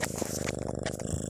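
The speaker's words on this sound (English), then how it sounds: "just listening to her purr as you slowly drift off to sleep" A cat purrs close up in a steady, rhythmic rumble that continues without a break, with no voices over it.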